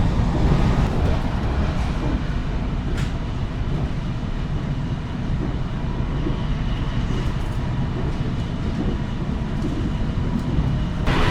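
The Logawa executive passenger train runs at speed through flat rice fields, heard from the first carriage behind the locomotive: a continuous loud rumble of wheels and car body with faint clacks throughout.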